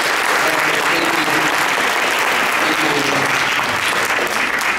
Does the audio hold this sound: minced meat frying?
no